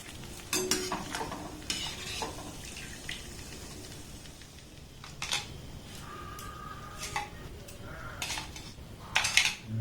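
Fried palm pitha fritters being lifted out of hot frying oil, with soft sizzling under clinks and scrapes of a metal spoon against the pan in irregular bursts, fairly quiet and close.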